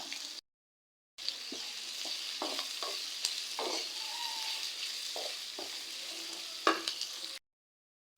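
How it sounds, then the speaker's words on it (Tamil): Onions sizzle in hot oil for a village-style chicken curry while a utensil stirs and scrapes them in irregular strokes, close and fairly quiet, with brief silent gaps at the start and end. "அதில் இந்த வெங்காயம் நல்லா ப்ரௌன் கலர் ஆக வரைக்கும் இது நல்லா வணக்கிடலாங்க."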